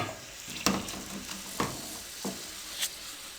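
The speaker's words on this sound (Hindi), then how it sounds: "अब इसी कुकिंग ऑयल में अब हम मटर फ्राई कर लेंगे।" Boiled green peas frying in cooking oil, with a soft continuous sizzle and a few light scraping stirs of a spoon, fairly quiet and close.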